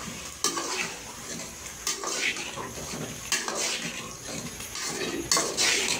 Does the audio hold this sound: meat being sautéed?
yes